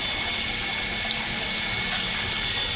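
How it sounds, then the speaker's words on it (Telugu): An electric motor pumps water in a steady, continuous gush of rushing flow, close and loud, with no pauses and no voices. "ఇక్కడైతే మోటార్ పెట్టారు వాటర్ కోసం."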